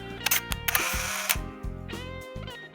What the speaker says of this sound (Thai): ขอถ่ายรูปลงบล็อกหน่อย